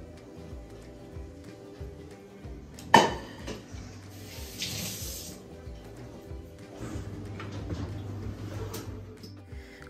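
Pots, pans and utensils clatter in a home kitchen while khichdi is cooked, with one sharp loud clank early on, then lighter scraping, stirring and a brief hiss, close by and with no talking.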